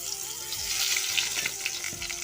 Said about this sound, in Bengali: পটল ভাজাটাও এখানে হয়ে যাবে